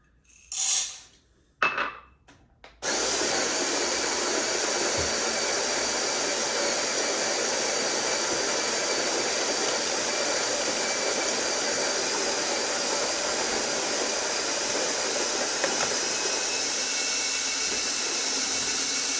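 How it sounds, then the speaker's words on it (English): A coffee grinder grinds beans very fine for cappuccino. A few brief knocks come first, then a loud, steady motor whir with a gritty edge runs without a break for about sixteen seconds. No one speaks. "I'm gonna be grinding this almost as fine as this grinder goes."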